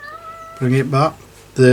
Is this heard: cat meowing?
yes